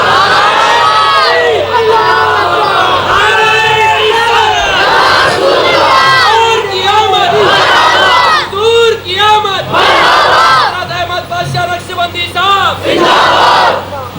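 A loud crowd chants the religious slogan Nara-e-Risalat, Ya Rasool Allah in repeated surging call-and-response waves of massed voices, close and continuous throughout.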